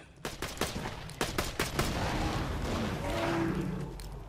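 Borderlands 2 gunfire with exploding rounds, a fast string of loud, close shots in quick clusters, then a swelling wash of blasts and crackling bursts that trails into rumble.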